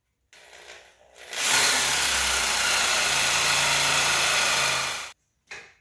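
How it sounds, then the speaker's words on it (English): A jigsaw cuts into an aluminum bar clamped down in a garage, a loud, steady buzzing rasp that runs for several seconds before stopping abruptly, with no talking. "I'm going to use my jigsaw to just kind of cut it"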